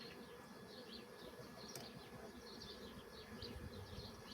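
A small honeybee colony, few bees left in the hive, gives a faint, steady buzz with scattered higher wing whines drifting across it, continuous and quiet throughout.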